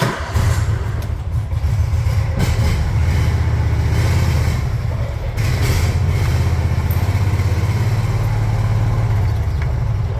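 A John Deere Gator utility vehicle with a recently repaired drivetrain drives along, its engine humming steadily and loudly up close for the whole stretch, with no talk.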